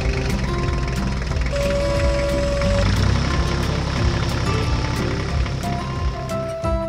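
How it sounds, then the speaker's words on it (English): Red tractor engine running steadily as it drives across a freshly mown field gathering straw, a continuous mid-pitched drone with some mechanical rattle, fairly close. "The red tractor moved across the field with precision and dexterity, its engine running smoothly and its wide wheels gliding confidently on the ground."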